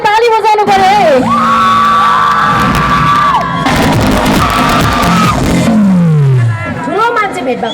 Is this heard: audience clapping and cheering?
yes